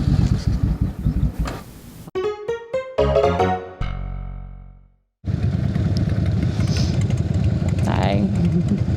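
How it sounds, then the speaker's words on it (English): On a hot day a motorcycle is started without choke. A brief rising tonal crank is followed by a short silence, then loud, constant wind buffeting on an action camera. "I'm literally not going to use any choke to start the bike"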